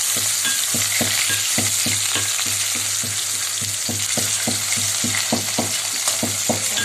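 Katla fish pieces fry in a pan with a loud, continuous sizzle, punctuated by regular rhythmic clinks or taps throughout, over a steady low hum.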